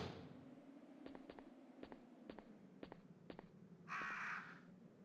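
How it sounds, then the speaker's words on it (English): Crows cawing in the Resident Evil 3 game world, about six sharp caws spaced through the clip over a steady low ambient drone, followed by a brief louder burst of noise near the end. "There are the crows."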